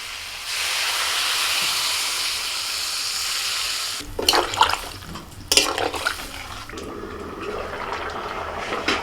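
A pan of egg, potato and spices cooking hisses and sizzles steadily, then water is added, bringing bursts of louder bubbling spatter and a gentler sizzle continuing afterward.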